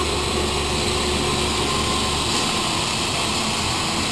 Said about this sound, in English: So now we'll start the lathe motor